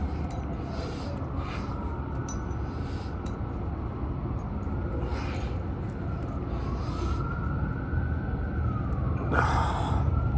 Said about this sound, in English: You hear those police sirens?